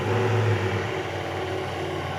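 A Ducati Multistrada V4S motorcycle engine runs with a loud, steady mid-pitched hum close by, holding even throughout with no talking.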